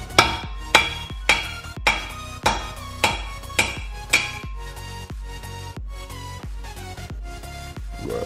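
Wheel studs are hammered out of a Scion FRS hub with the caliper removed, giving about fourteen sharp, ringing metallic blows at a steady pace of roughly one per second, close and loud, with no talking.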